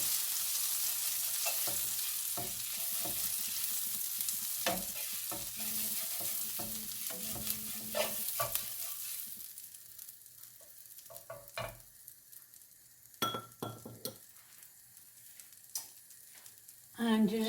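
Butter sizzles in a hot pan while food is stirred, a loud steady frying hiss that later thins out, broken by close scraping and clattering utensil knocks.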